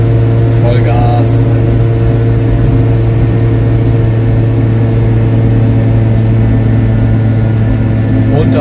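A Piaggio Ape 50 engine held at full throttle while driving, a loud, constant buzzing drone with steady harmonics and no noticeable change in pitch.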